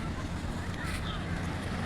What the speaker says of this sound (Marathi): मस्त लाटा